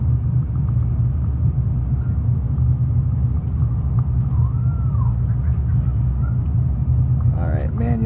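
Thrust reversers on an airliner in a flight simulator game give a steady, loud low-pitched roar and rumble after landing that fills the whole stretch, with faint tonal sweeps and a short bit of speech at the end.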